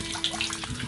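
Water pours from a mini water pump into a container in a steady, close trickling splash that lasts the whole brief moment.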